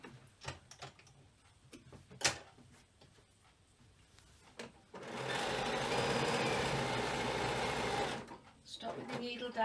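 A sewing machine stitches a frame bag in one steady, close run of about three seconds, preceded by scattered clicks, taps and handling noises; a voice speaks around it.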